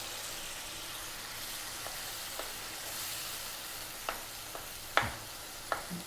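Brain dropped into a hot pan for Pakistani street-style masala brain fry, with a steady soft sizzle and a few sharp spatters and pops near the end.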